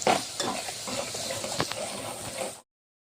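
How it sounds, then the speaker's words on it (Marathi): Garlic ginger paste sizzles steadily in hot oil while a utensil stirs and scrapes the pan close by. The frying noise stops abruptly and is followed by silence. "हा पेस्ट थोडासा कच्चेपणा जाईपर्यंत आपल्याला होऊ द्यायचा आहे तेलामध्ये।"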